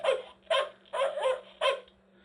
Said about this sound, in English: It doesn't sound like Frank Welker's barking